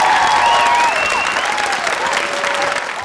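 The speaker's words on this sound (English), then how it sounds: "so round of applause to you." Loud, sustained applause from a school audience after a student performance of A Midsummer Night's Dream, close and continuous, with a few whoops and shouts rising over the clapping.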